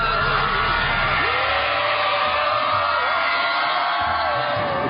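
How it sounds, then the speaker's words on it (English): An excited crowd cheers and whoops loudly and continuously at a nighttime stunt event, with scattered yells rising over a dense wash of voices. "The crowd is excited."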